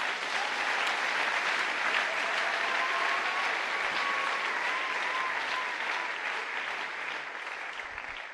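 A church congregation at a closing seminar session bursts into sustained applause to acclaim the Lord, a loud, even wash of many hands clapping that holds steady and fades slightly toward the end.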